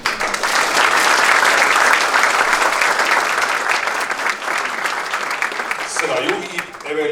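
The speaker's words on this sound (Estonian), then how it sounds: "aplaus!" Audience at a school alumni ceremony applauds steadily, a dense, sustained clapping from a large crowd that fades slightly near the end as a few voices emerge.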